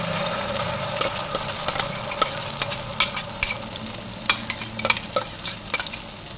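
Spice paste sizzling loudly in a hot pan while being stirred, a steady dense frying hiss broken by scraping strokes of the spoon, close and continuous with no talk.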